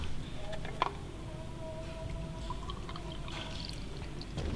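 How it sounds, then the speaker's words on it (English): A drink from an Indonesian army ration pack is poured out in a steady, fairly quiet stream over a constant background hiss, with one brief knock partway through. "I'm gonna pour it myself."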